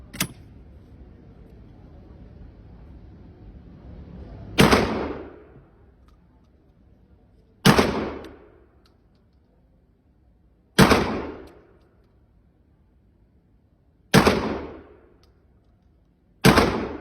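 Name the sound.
12 gauge shotgun shots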